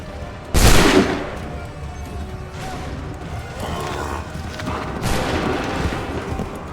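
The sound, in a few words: soldiers' volley of gunfire in the video game Assassin's Creed III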